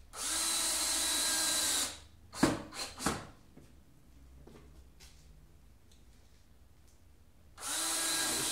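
A power drill drives 1-inch screws into pallet fence wood, with a loud steady whirring burst at the start, a few short clunks and knocks from the boards, a quiet pause, then another sustained drill run at the end, all close and without speech.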